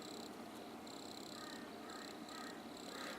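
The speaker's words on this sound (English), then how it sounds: "Let's just start with crickets." Cricket chirps on an audio track in a music project, a steady, high-pitched trill pulsing in short repeated bursts over a constant background hiss.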